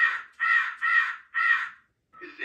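A raven caws four times in steady succession, loud and close, followed by a pause and the start of a fifth call, set among spooky Halloween home decorations.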